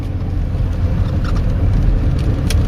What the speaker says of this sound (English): loads of parts are in the back, wrapped in blankets. So we're rattling a little bit.